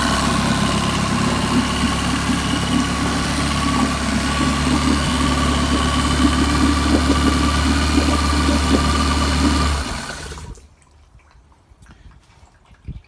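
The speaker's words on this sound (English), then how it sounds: "Running as it should for a brand new motor." A brand-new outboard motor idling steadily up close with a loud, even mid-pitched drone and faint dripping, then cutting off near the end into near silence.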